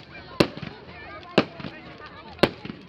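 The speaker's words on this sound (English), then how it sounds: "These are the exact same fireworks they did with James." Fireworks bursting at a bonfire night event at a rugby club: three sharp, loud bangs spaced about a second apart, each followed by crackling, with people chattering in the background.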